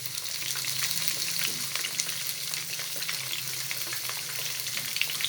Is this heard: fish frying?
yes